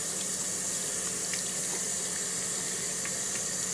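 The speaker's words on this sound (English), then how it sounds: "rinse it off in water" Running tap water rinsing a corroded brass relic after a metal de-corroder treatment, a steady broadband hiss of flowing water with light splashing throughout, no talking.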